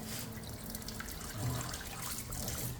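Water runs from the tap of a newly installed UF Cotora water filter, a quiet steady flow with soft splashing and trickling that continues without a break.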